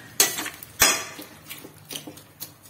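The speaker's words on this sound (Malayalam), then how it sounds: "നമുക്കിതൊന്ന് ഇളക്കി മിക്സ് ചെയ്ത് അടപ്പിൽ അടച്ചു വെക്കണം." A spoon clinks and scrapes against a metal pot while jackfruit aviyal is stirred, followed by lighter taps and a lid settling; the strikes are close, sharp and irregular with quiet gaps between.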